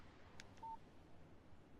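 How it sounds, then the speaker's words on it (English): A short text-message alert chimes from a phone in the Alan Wake video game, a faint brief electronic tone over a low steady background hum. "Text message from Barry."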